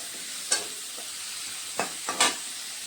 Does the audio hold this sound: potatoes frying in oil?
yes